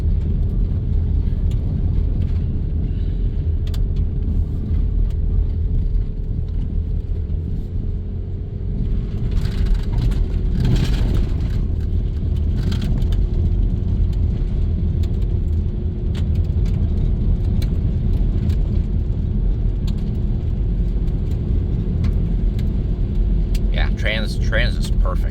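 A 1997 Dodge Grand Caravan SE that had sat abandoned on a farm for over four years, driving along with a continuous low road and engine rumble heard from inside, a brief louder swell midway and some faint chatter near the end.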